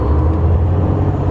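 Empty semi truck pulling a tarp load accelerating on the road, a loud, steady low engine drone and road rumble heard from inside the cab, no talk.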